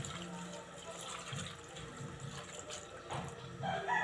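Water is poured into a cooking pot of coconut-milk crab stew, a faint continuous trickling splash with a soft voice in the background.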